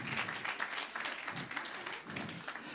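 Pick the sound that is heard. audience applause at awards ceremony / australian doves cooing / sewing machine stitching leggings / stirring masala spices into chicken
audience applause at awards ceremony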